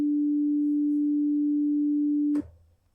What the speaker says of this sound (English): The sine wave is the most basic waveform. It has no harmonics. It has just one tone,